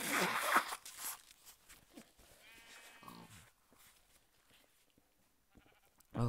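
Sheep bleating in the video game Minecraft, short wavering bleats rising over loud game noise and scattered clatter, with voices talking over parts of it.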